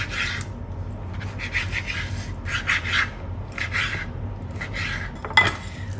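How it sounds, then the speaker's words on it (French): Knife cutting chicken into small even pieces on a board for a chicken and chickpea salad, a run of short scraping and rasping strokes over steady background hum, close and fairly loud, with a sharp knock near the end. "je vais les découper, comme je vous disais, un petit peu de la même taille que ce que j'ai découpé les légumes"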